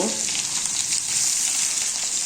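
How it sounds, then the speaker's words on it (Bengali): Winter vegetables, including pumpkin, eggplant and radish, fry in a pan with a continuous, close hiss of sizzling oil and no voices. "এবার নেড়ে চেড়ে নিচ্ছি"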